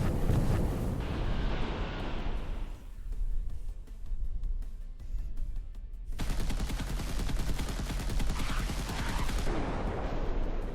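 Enemy warships fire on the player's fleet in the XR22-SEAGUARD VR naval game, producing a dense, rumbling barrage of gunfire and blasts. It dips briefly to a quieter stretch, then surges back into loud, continuous shelling.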